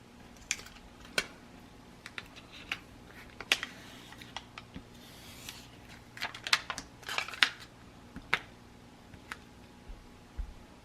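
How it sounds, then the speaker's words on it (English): Backing is peeled off an adhesive sheet at a craft table, producing close, quiet crackles and sharp little ticks scattered irregularly through a calm room. "I need to peel the backing off of this now."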